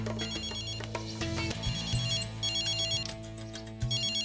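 A telephone ringtone plays a repeating electronic melody, loud and close, cycling through its pattern several times with no talk over it.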